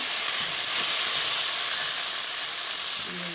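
Green peas hit a hot pan of ginger and garlic and burst into loud, steady sizzling and hissing that fills the whole stretch, close up with no voices.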